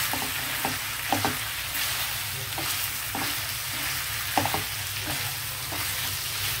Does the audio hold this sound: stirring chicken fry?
yes